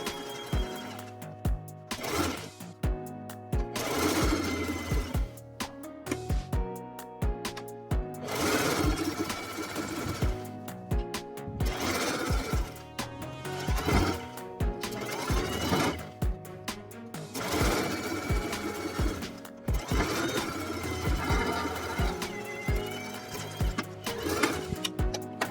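A sewing machine edge-stitches a cargo mini skirt, running in long rapid buzzing bursts with brief pauses between them, loud and close with no one talking.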